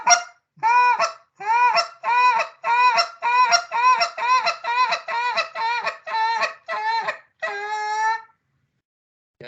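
A hand-blown goose call imitates two geese on the ground, giving a run of about a dozen rhythmic, nasal clucks and moans, close and loud, with no talk.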